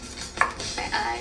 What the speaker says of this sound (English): Shallots. Let's cut them in half.